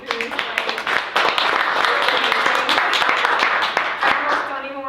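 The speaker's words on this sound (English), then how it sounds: "let's just give another round of applause to Blakely" A bookstore audience at a chapbook launch claps for a reader, a dense burst of applause rising after a moment of talk and holding steady, with voices mixed in.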